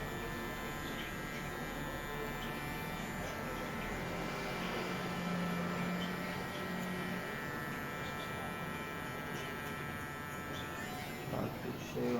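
An electric hair clipper buzzes steadily through a long stretch of a professional haircut, a constant close hum with faint background sounds and no clear talk.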